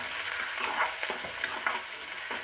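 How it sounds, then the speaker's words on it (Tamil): Onions and green chillies sautéing in a hot pan for beetroot stir-fry, a dense crackling sizzle with quick stirring scrapes, close and continuous without any voices. "இப்போ வெங்காயம் நல்லா வதங்கிட்டுருக்கு"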